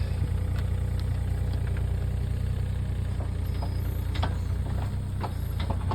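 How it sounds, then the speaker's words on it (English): A tractor's steady, low diesel engine rumble runs throughout as it buries drain field lines, idling evenly with a few faint clanks and knocks over the top. "He's getting pretty good at running that tractor."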